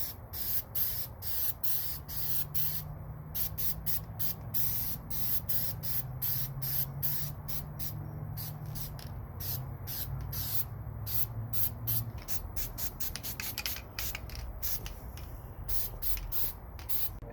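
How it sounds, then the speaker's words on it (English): An aerosol can of bed liner sprays onto a vehicle winch and bumper in repeated short bursts and longer hissing passes, close and steady, with no talking. "So we got the winch and the bumper ready to spray."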